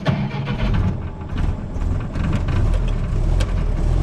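A 1942 Ford GPW Jeep gets moving: its engine rumbles low and close, swelling and easing as it pulls away, with rattly knocks on top.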